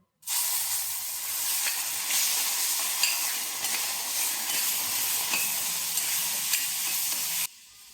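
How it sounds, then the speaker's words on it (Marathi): Tomato frying in a pan of roasted coconut with the gas switched off, a steady close sizzle and hiss with light stirring scrapes that runs unbroken for about seven seconds, then stops abruptly. "गॅस बंद करून हा टोमॅटो यातच फ्राय करून घेऊ।"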